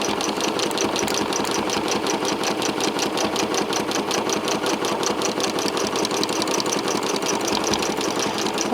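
A sewing machine stitches a quilt around embroidery, its needle hammering out a fast, even, unbroken rhythm that stays loud and close for the whole stretch.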